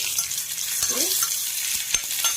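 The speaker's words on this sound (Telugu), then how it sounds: "వేగిపోయిందండి కొబ్బరి ముక్కలు ఎంచుకున్నాము ముక్కలు అయితే వేగిపోయినాయండి" Coconut pieces frying in a pan for a Ganesh festival offering, a steady close hiss and sizzle of hot oil with a few soft stirring scrapes.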